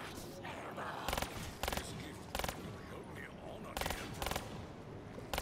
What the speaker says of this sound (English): Fireworks is pretty good.